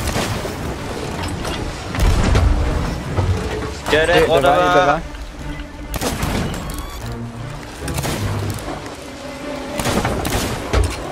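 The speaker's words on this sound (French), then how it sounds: "Nick, faut que tu tires au canon." Cannon fire from a ship battle in Sea of Thieves, with several booming shots and rumbling impacts scattered across a noisy mix, while players talk over it throughout.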